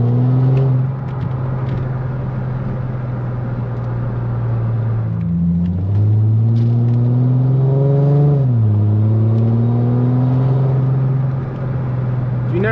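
A supercharged AMG V6 in a Chrysler SRT-6 pulls hard with a loud, close engine drone that climbs through the gears, its pitch dropping briefly at each shift before rising again.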